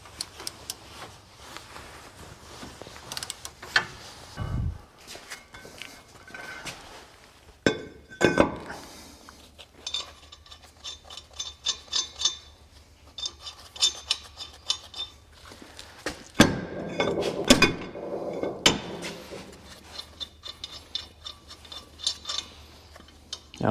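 A wrench turns a lock nut on a vehicle's rear axle, giving scattered metallic clicks, ticks and clinks at an uneven pace, up close, with a few louder clanks and no talk.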